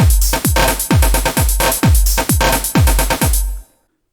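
A Sonicware CyDrums wavetable drum synthesizer and drum machine plays a quantized beat: loud, punchy kick drums with pitch-dropping booms and crisp hits in a tight even rhythm for several bars, ending abruptly.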